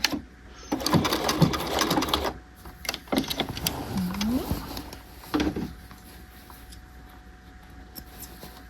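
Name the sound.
sewing machine lock stitching jacket canvas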